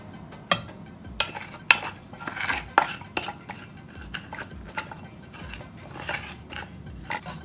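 Wet ingredients are stirred into flour in a bowl for Jamaican bulla cake, with a spoon scraping and knocking against the bowl in irregular, sharp clinks over soft mixing rustle, close and unaccompanied by talk.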